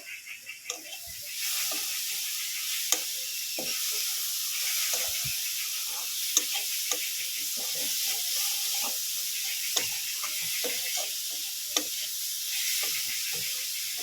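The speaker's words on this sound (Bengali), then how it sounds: "এভাবে আমি নাড়াচাড়া করে নারকলের পুরটাকে বানিয়ে নেব" Coconut filling for kumro puli pitha stirred in a pan, giving a steady soft sizzle and hiss throughout with scattered light scraping clicks of the spoon, fairly close.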